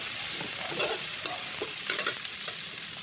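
Garlic and onion sizzling in hot oil in a pan, a steady hiss of frying broken by intermittent stirring scrapes from a utensil, heard close with no talk.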